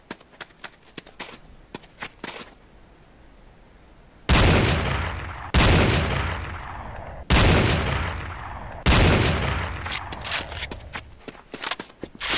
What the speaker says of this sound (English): Next is the Vervac R59 Pierce sniper rifle